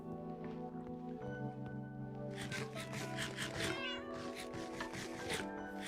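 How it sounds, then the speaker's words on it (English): Minecraft cats meow repeatedly, several short overlapping mews in quick succession, over a steady tonal background, with no one talking. "I hear you meowing in there."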